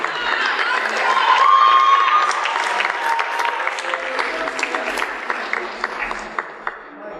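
A school awards-ceremony audience claps loudly for high school students, a steady roar of hands with some cheering and whoops that gradually thins into scattered individual claps toward the end.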